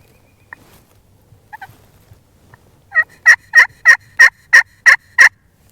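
A wild turkey gobbler in spring woods in Wisconsin lets out a run of about nine loud, rapid gobbles close by, after a few faint scattered calls in near-silence.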